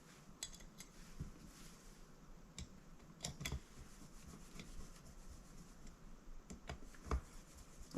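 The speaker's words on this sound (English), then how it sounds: "And now we can put all our screws back in." Screws being fitted back into the float bowl of a 1700 Yamaha Silverado motorcycle carburetor make quiet metallic clicks and scrapes, scattered and close-up against a faint background.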